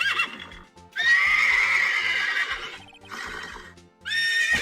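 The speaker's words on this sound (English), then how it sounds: "I was wondering if it was going to be more than a horse noise" Repeated loud horse neighs from the Phoenix Wright: Ace Attorney video game, three long whinnying calls separated by short gaps, with a faint musical tone underneath.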